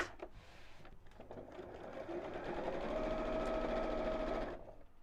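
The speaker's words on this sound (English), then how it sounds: "So we'll sew down the side of that." A sewing machine stitches down the side of fabric for a water bottle carrier, running as a steady, fairly quiet mechanical whir for about three seconds before stopping, with no talking.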